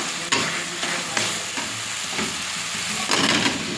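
Cauliflower fries in a spice paste with coriander leaves and salt in a pan, giving a loud, close, continuous sizzle with intermittent scraping knocks from stirring.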